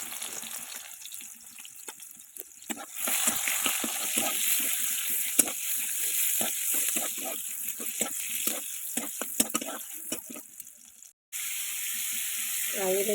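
Sliced onions dropped into hot oil in a pan, a sudden loud sizzle that keeps frying steadily with crackles and pops, close up, broken by a brief silent gap near the end.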